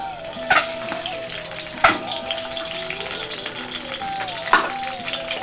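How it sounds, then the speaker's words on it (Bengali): Boiled egg and lightly salted boiled potato frying in hot oil for egg biryani, a steady close sizzle with a few sharp pops and clatters, no talk. "এবার আমি তেলটা গরম হলে এর মধ্যে ডিম আর আলুটাকে একটু ভেজে নেব"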